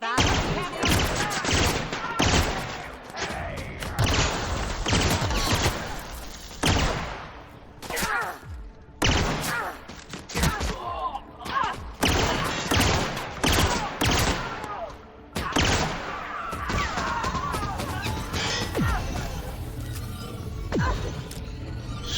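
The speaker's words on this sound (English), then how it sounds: "Stop shooting me with black hole stuff." Black hole weapon shots in the Peril on Gorgon video game, dense bursts of heavy, booming fire in repeated volleys with short gaps, loud and close, mixed with voices talking.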